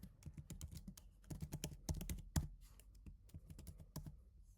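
Password being typed on a computer keyboard, a quick, quiet run of close key clicks with uneven rhythm and a few heavier presses, without talk.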